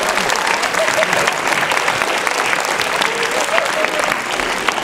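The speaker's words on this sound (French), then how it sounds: "j'aimerais que vous vous applaudissiez tous mutuellement" Concert audience at an INSA Rouen music-studies student concert applauding one another, dense continuous clapping from a full room with a few faint voices mixed in.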